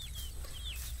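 A couple of quiet, high chirping clucks come from pet chickens being fed, brief calls set against a steady low background hum, and no one speaks.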